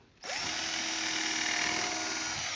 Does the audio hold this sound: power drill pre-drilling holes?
yes